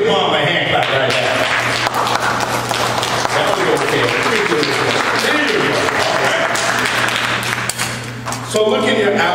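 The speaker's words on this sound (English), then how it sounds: "let's give mom a hand clap right now" A church congregation claps steadily and enthusiastically for a mother on Mother's Day, a dense wash of applause sustained throughout before tapering slightly at the end.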